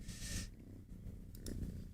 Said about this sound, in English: Oh, we got purring Fed. Can you hear him